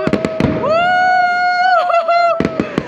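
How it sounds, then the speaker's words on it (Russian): New Year fireworks burst outside in Italy: sharp pops open and close the moment, and a long whistling tone rises and holds between them, with excited voices nearby. "какие салюты!"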